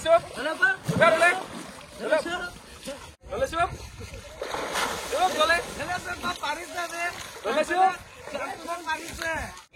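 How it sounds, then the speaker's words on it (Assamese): People bathing in a river splash and slosh the water repeatedly in irregular bursts, close by, while voices talk and shout over the splashing throughout. "আমি নদীত আমি গা ধুই আছো"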